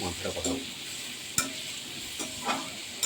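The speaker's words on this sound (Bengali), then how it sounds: "এবার পেঁয়াজটা ভেজে ভেজে নেবো লাল করে" Onions fry in a small amount of oil for a Bengali desi chicken curry, a soft steady sizzle broken by a few sharp clicks and scrapes of a spoon stirring the pan, and no talking.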